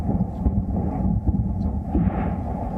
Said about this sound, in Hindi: लगातार ये धमाकों की आवाज़ है